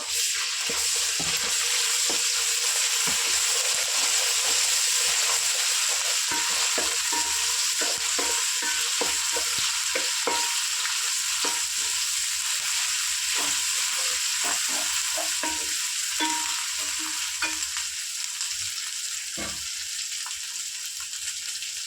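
Freshly ground ginger paste sizzles steadily in a hot pan, a continuous close frying hiss broken by the occasional clink of a spoon stirring.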